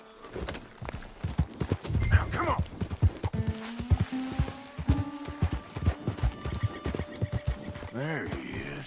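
Horse hooves clip-clop in the Western video game Red Dead Redemption 2, a run of clear hoof beats followed by a sharp neigh near the end, with a voice talking over parts of it.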